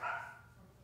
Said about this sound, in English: My dogs just keep barking today.